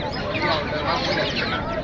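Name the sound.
tiger chickens clucking at village market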